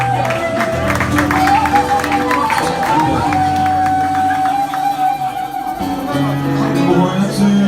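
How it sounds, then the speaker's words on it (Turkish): Audience applause and cheering at a live Turkish music performance, loud clapping from a crowd mixed with whoops, along with sustained musical tones and voices. "Alkış gelsin lütfen."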